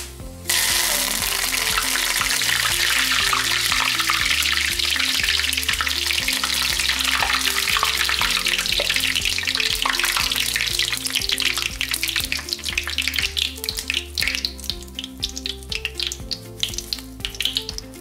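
Curry leaves fry in hot oil, a dense, loud sizzle with sharp crackling pops that continue throughout and gradually ease toward the end, with some stirring clatter. No one speaks.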